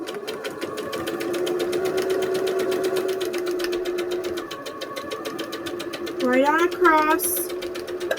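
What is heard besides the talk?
sewing machine stitching quilt block fabric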